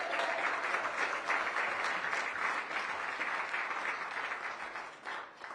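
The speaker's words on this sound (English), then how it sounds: "Can we give them a round of applause?" A crowd at a Los Angeles FIFA World Cup 2026 draw watch party applauds the community champion organizations. The sustained, even applause sounds somewhat distant and fills a large room, then fades slightly at the end.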